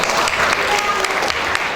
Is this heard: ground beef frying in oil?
no